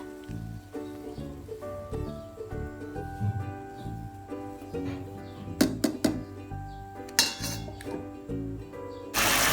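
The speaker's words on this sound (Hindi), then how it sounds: "चम्मच हिलाएंगे।" A metal spoon stirs rice with lemon in a cooking pot while making mutton biryani, giving repeated clinks and scrapes against the pot at an uneven pace, close and fairly clear, with no talk.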